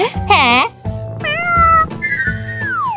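A voice imitates a cat, giving several rising and falling meows in a row, loud and close, with short spoken questions in between.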